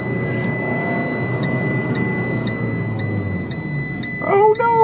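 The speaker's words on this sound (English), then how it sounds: "It's beeping at me." Warning chime from a Fiat 500 Abarth car, a regular series of short electronic beeps over a low idling engine rumble, followed by a brief voice at the end.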